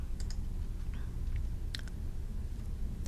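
A few soft, sharp clicks of a computer mouse, spaced irregularly over a low steady hum.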